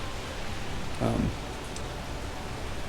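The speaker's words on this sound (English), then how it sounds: "I don't know if we'd necessarily really call that hail, but it's pretty hard sleet." Hard sleet falls on top of a car in a March storm, a constant soft hiss of pellets on the roof that continues evenly throughout, with a brief low voice-like sound in the middle.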